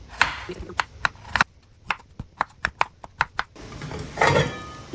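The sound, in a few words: chopping potatoes for aloo matar pulao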